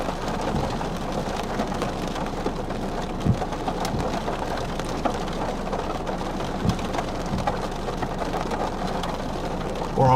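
Heavy rain pours steadily during a tornado-producing thunderstorm in the April 4, 2025 tornado outbreak, a dense continuous hiss with a few dull thumps and faint rumbles underneath.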